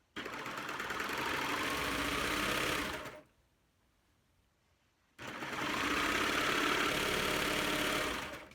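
Serger sewing machine stitching raw fabric edges together for a pillowcase, running in two steady loud bursts of even whirring separated by a short pause.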